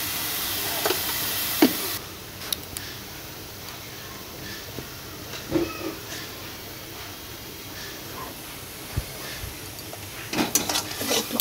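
Onion, ginger, garlic and cumin being sautéed with turmeric, chilli powder and salt in a pan, giving a soft steady sizzle with scattered clinks and scrapes of a spoon against the metal, fairly quiet and close.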